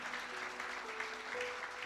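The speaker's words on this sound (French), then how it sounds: "Est-ce qu'on peut applaudir notre Seigneur Jésus?" A church congregation applauds, a dense crackle of many hands clapping steadily at a moderate distance, with faint held tones beneath.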